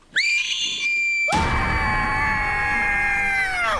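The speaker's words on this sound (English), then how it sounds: "But did I just hear a shark scream?" A shark's scream in a comedic puppet film, a loud sustained high-pitched shriek that starts with a brief wail, then breaks into a long strained cry for over two seconds before cutting off.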